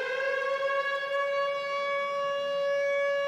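A DJ siren effect played during a live blend show wails as a loud electronic tone with a strong, steady pitch that rises slightly at the start and then holds, heard alone and without talk.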